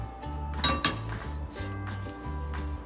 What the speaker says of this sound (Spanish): Pondremos el sartén a fuego medio